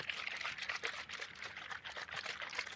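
A bottle of non-sparkling Mentos Berry Mix drink with jelly bits is shaken close by, giving a faint, rapid sloshing and rattling that runs continuously.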